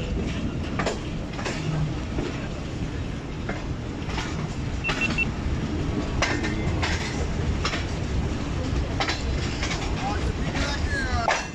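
Mehr Express passenger train pulling into Kundian Junction railway station at night, a steady low rumble of rolling coaches with scattered clanks and squeals, continuous and fairly loud throughout.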